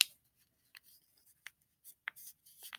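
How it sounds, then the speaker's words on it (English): A paper square is folded by hand, with a few soft, brief crinkles and creasing rustles spread out among near-silent gaps. "I'm going to fold it again."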